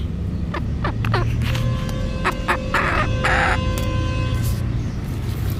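A hen about to lay an egg calls nearby, with repeated clucks and a few short bursts of louder squawking over a constant low background hum.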